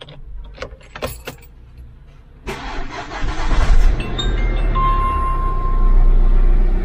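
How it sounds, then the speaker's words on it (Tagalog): A Hyundai Accent CRDI diesel is cranked and starts, preceded by a few keys jangling and clicks, then the engine catches and settles into a steady, loud diesel idle close by. "Tapos start natin yung engine."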